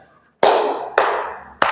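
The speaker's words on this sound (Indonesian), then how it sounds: "Kalau tepuknya 3 kali" Three sharp hand claps ring out in a quiet room, loud and crisp, unevenly spaced with short decaying echoes.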